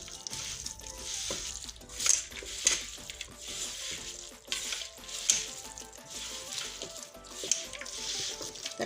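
Dal with bottle gourd, potato and fried egg being mixed in a hot pot, giving a steady sizzle with repeated scraping stirs and a few sharper clinks, close and moderately loud with no talking.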